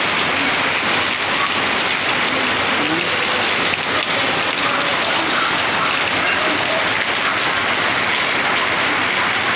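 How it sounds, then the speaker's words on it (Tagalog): Heavy rain pours down steadily on surfaces outdoors, a loud, continuous hiss and patter that never lets up. "Umulan na naman. Ang lakas ng ulan."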